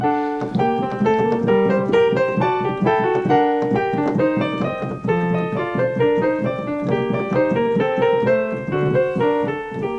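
Three-voice fugue exposition on keyboard, interweaving lines moving at once in steady contrapuntal motion, several independent melodic voices played cleanly at an even tempo without pause.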